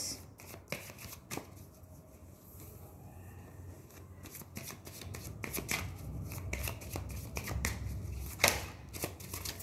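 Tarot cards shuffled by hand, a steady run of crisp riffling and flicking card noises at close range, quiet and continuous with no talking.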